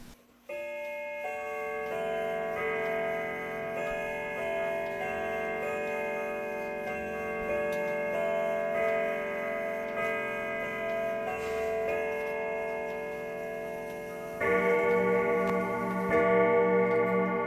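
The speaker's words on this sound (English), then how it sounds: "So I'm hoping you can hear the pendulum." A pendulum clock ticks steadily beneath sustained ringing tones that swell louder near the end, the ticking regular and close.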